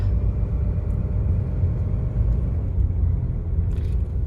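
Vehicle driving slowly around a lower loop of an RV park at Medina Lake in Lakehills, Texas, giving a steady low engine and road rumble heard from inside, with no talking.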